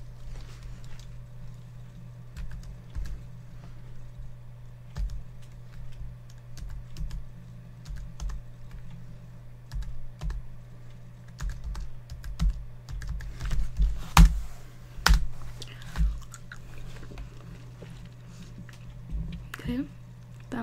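Rapid typing on a computer keyboard during a bookstore roleplay, close and crisp in binaural sound. Irregular bursts of clicking keys run throughout and grow busier toward the middle, with soft speech underneath.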